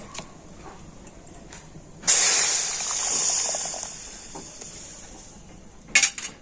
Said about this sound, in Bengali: তো এই জুসটা এখন আমি কড়াতে দিয়ে দিচ্ছি